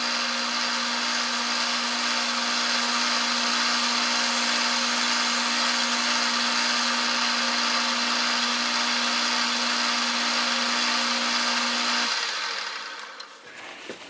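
A lathe machines the threaded section of a mill chuck tapping collar, giving a steady, loud whine with a constant low tone that holds for about twelve seconds before cutting out and leaving a short clatter.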